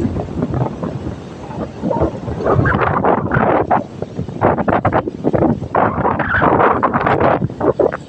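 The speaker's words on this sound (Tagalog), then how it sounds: "Sobrang lakas ng hangin." Strong wind at the seashore buffets the microphone in loud, gusty roars, surging and easing over a steady low rush, with big waves near the shore.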